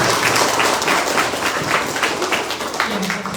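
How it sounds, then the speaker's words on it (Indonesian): Audience applause at the opening of a NasDem party restoration school event in Merauke, Papua: steady, dense crowd clapping throughout, fairly loud and sustained, with a faint voice briefly audible near the end. "Mari kita beri tepuk tangan."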